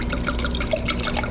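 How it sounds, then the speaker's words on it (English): Red wine, a 2007 Rodney Strong Cabernet Sauvignon, poured into a glass, a short close trickling and gurgling stream heard alone. "Give myself a little pour."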